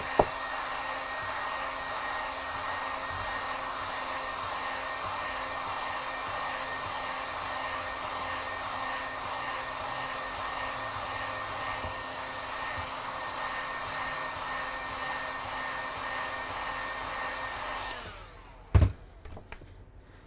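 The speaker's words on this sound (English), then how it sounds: "The first thing we're going to do is start by applying heat onto the screen." A heat tool blows steadily onto an iPod Touch 4 screen, a constant loud whooshing hum lasting nearly twenty seconds before cutting off, followed by a couple of sharp clicks.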